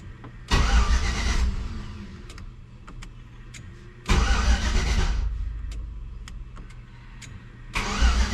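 A 6.0 engine swapped into an OBS truck cranks and catches three times, each start a loud burst that settles into a steady idle rumble, with sharp clicks between.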